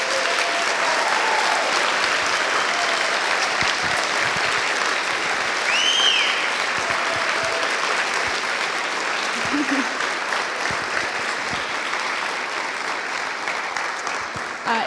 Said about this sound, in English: if we could give a huge round of applause again to them for their time